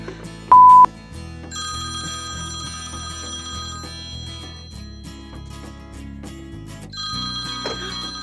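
A telephone rings repeatedly, bright bell-like trills sounding on their own in a quiet setting, with no voices, preceded by a brief louder beep near the start.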